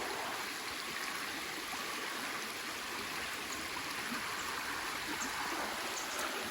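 Cold water from a mountain stream flows and splashes over rocks exposed by low water, a steady, close, full-bodied rushing with no talk over it.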